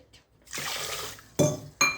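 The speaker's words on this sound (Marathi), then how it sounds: "त्यामध्ये 2 फुलपात्रे पाणी टाकायचं आहे." Water pours steadily into a metal pan for about a second, for sugar syrup for gulab jamun, followed by two sharp metallic clinks.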